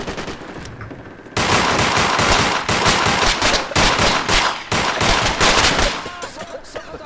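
Gunfire in the Project Reality combat video game, heavy rapid automatic bursts starting abruptly after a quiet second and continuing loud and close with brief pauses until near the end.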